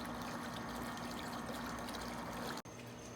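Water pours into a 140-gallon tub being set up as a small cichlid pond, making a steady, close trickling splash that runs continuously and cuts off briefly near the end before resuming.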